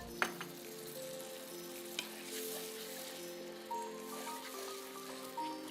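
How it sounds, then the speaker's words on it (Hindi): Yogurt hits a hot spice masala for jhangora (barnyard millet) biryani, setting off a steady close sizzle and crackle of frying, with occasional stirring clinks against the pan. "अब ये मसाले में डाला दही, लगभग आधा कप है जी।"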